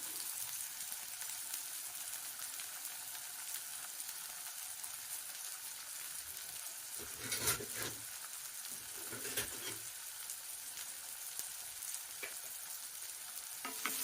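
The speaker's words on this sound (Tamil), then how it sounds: "வதக்கிக்கலாங்க" Small onions sauté in a pan for a keerai poriyal, a steady close sizzle with a couple of brief stirring scrapes partway through, no voices.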